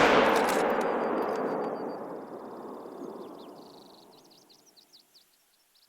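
A single hunting rifle shot rings out in theHunter: Call of the Wild, a loud crack followed by a long rolling echo that fades over several seconds as faint birdsong chirps in the background.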